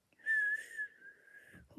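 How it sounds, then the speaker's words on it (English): A person whistles by blowing air inward, giving one sustained, slightly wavering high tone that trails off, then a short breathy sound, quiet and close. "That's how I got used to whistling"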